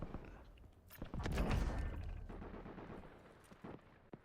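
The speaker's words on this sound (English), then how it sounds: "I hear gunshots over here." Gunfire in the video game Warzone, a muffled burst of rapid shots swelling into a rumbling barrage around the middle, then fading to scattered thuds and a final sharp pop.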